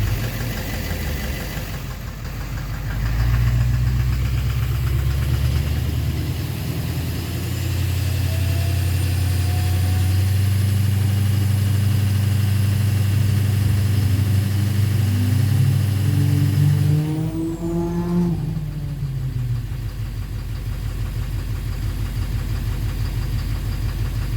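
A Duramax LMM diesel engine idles with a knock, a steady low rumble close up that rises briefly in pitch before settling back to idle, with no talking.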